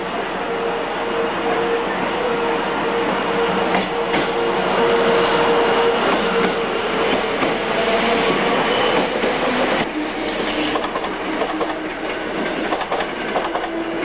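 Super Hitachi express train running on rails, a steady loud rumble with faint clickety-clack and a high wheel whine throughout, heard continuously with no talk.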